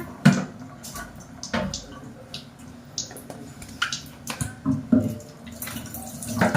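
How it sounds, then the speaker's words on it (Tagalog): Water running inside a household cabinet, an irregular splashing and trickling with scattered drips and knocks, fairly close and unaccompanied by talk. "Bakit magkakatubig sa cabinet?"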